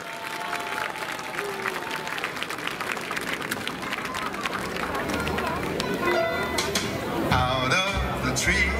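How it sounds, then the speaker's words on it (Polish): A crowd at the D-Day Hel 2018 event applauds the participants of a 1940s fashion contest with sustained, dense clapping and some chatter, swelling slightly toward the end as music begins. "Brawa dla naszych uczestników!"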